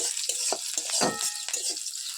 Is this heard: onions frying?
yes